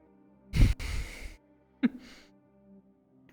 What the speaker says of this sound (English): A big yawn.